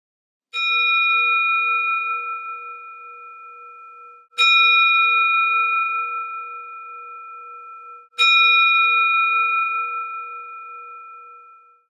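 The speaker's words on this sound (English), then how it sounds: "going to hear the chime of 3 meditation bells" Three meditation bells struck one after another about four seconds apart, each a clear, bright ringing tone that slowly fades, with no talking.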